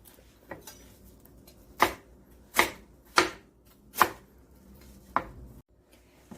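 A knife julienning Korean radish on a cutting board gives about six crisp, spaced chops close up, with quiet pauses between them and no voices.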